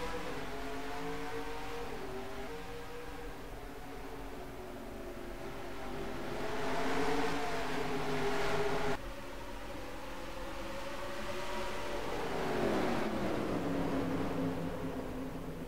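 Race cars from a stock car racing video game, Myrtle Beach track, drone steadily with gliding engine pitches as several cars accelerate together after a restart, the tone swelling and falling with no talk.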